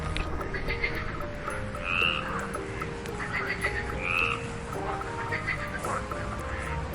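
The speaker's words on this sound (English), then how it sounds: "have a unique vocal sac that allows them to produce loud calls to attract mates and communicate with other frogs" Frogs croaking in a chorus, with repeated loud calls rising and falling at a steady rhythm over a dense layer of background calling.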